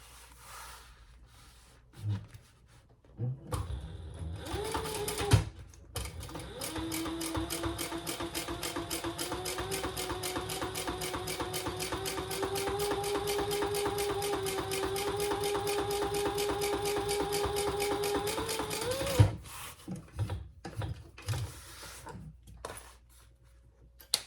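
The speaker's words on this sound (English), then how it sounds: "All right, then we're going to turn and top stitch." A sewing machine topstitches a Bagstock Oriana bowler bag, running in a steady rapid mechanical chatter for about fourteen seconds with a slight pitch rise midway, framed by handling clicks and rustles before and after.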